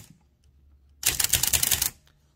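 A 1914 Blickensderfer Aluminum Featherweight typewriter typing in a script typeface, heard as a quick, close burst of rapid mechanical clacks lasting about a second after a quiet pause.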